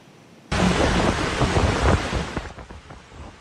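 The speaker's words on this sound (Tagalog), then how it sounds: "naranasang malakas na hangin at ulan na nagdulot ng storm surge sa Tondaligan Beach sa Dagupan City" Strong wind and storm surge waves pounding Tondaligan Beach in Dagupan City during a typhoon, a loud sudden roar of surf and gusting wind that rushes in and churns steadily, with no voices.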